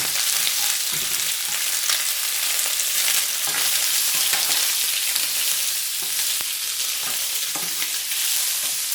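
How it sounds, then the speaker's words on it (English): Andouille sausage sizzles and fries in olive oil in a hot pan, a loud continuous crackle with occasional stirring scrapes and no talking. "Now let's brown up the sausage."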